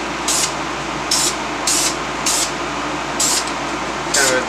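Short spray bursts from an aerosol paint can laying a light dust coat on brake calipers being painted red, six hissing puffs about half a second each, evenly spaced and close, over faint background hum.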